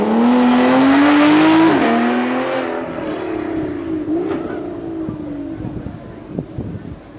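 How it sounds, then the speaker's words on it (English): An Aston Martin V12 of 5.9 litres climbs a hill at a supercar event, its engine loud and close at first with rising and falling revs through gear changes, then fading as it pulls away, with wind noise. "So our first car coming back up the hill"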